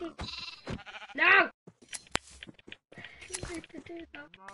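Sheep bleating in Minecraft, one clear wavering bleat standing out amid game sounds while a person talks around it.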